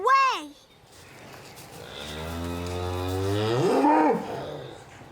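Large farm cows moo as they are moved out of a barn, one long, close, loud bellow rising and falling, with a brief higher call just before it.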